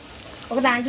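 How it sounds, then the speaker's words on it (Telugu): Onion pieces sizzle in a pan for chicken curry, a quiet hiss that swells into a louder, bright fry halfway through this brief moment. "ఉల్లిపాయ ముక్కలు కూడా ఏగిపోయినాయి"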